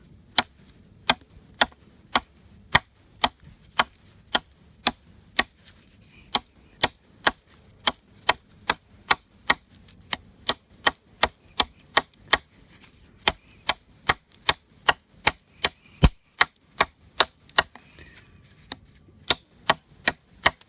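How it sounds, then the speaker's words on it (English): Sharp, evenly spaced chops of a Becker BK16 knife biting into hardwood, dozens of crisp close impacts in a steady rhythm with no talking. "I'm gonna be using my little handy Becker BK16 here. Just gonna do some light chopping with this."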